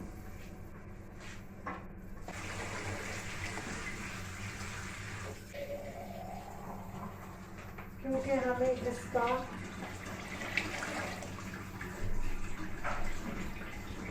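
Water being poured into a pan of fried chicken to make gravy, a splashing, running pour in the middle of steady kitchen noise while a person talks.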